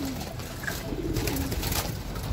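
A lame racing pigeon just back from a derby coos in soft, steady low murmurs, close and fairly loud, over a constant background hum with no talking.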